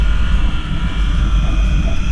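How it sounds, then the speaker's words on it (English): A big-bore adventure touring motorcycle engine with severe valve knock gives a loud, steady drone with a busy low rumble and a constant rapid ticking beneath it, heard up close with no talking. "That engine, it sounds like it has the worst valve knock I've ever heard in my life."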